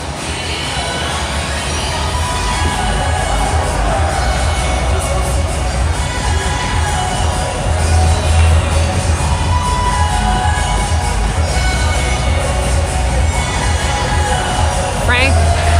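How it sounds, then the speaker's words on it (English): A large crowd fills a hockey arena at Pagel during a Tonka versus PL game, a loud, steady roar of voices and cheering babble that holds throughout, with children shouting mixed into the noise. "Good crowd here at Pagel tonight."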